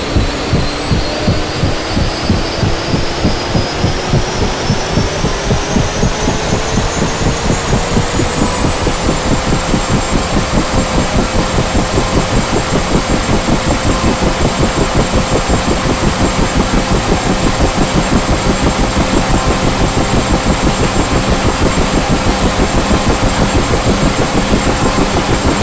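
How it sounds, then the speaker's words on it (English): A Huey helicopter's turbine and rotor spin up in the DCS flight simulator, a rising whine climbing in pitch over a rapid, steady rotor chop that levels off into a loud, continuous drone. "The helicopter will toss you around quite a bit as the rotor spins up."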